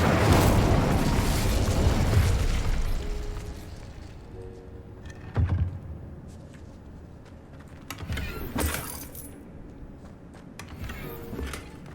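An Incendio fire spell from the video game Hogwarts Legacy erupts in a loud roaring burst that fades over a few seconds, followed by scattered smaller pops and crackles.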